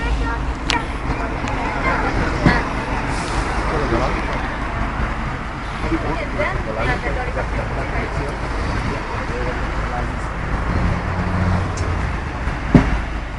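A tour bus idles at a stop, its engine giving a steady, close low rumble with a few sharp bursts like air brakes, under faint indistinct voices.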